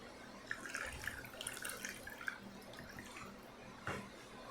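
Water, 1.5 cups, is poured into a pie shell for a water pie, a soft, faint trickling and splashing that runs steadily for several seconds with small drips, close by in a quiet kitchen.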